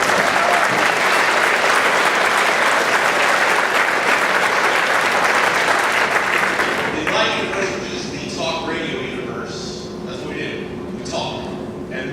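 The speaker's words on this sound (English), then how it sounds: "Give yourselves a big round of applause again." Loud, sustained applause from a crowd at a school Blue Ribbon ceremony, dense clapping that drops off after about seven seconds into scattered claps and voices in a large hall.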